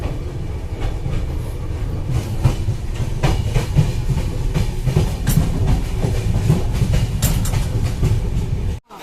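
The Howrah–Guwahati Saraighat Express (12345) rolls along the rails near Bolpur Shantiniketan. A loud, close, steady rumble carries rhythmic wheel clicks and bursts of hiss, then cuts off abruptly at the end.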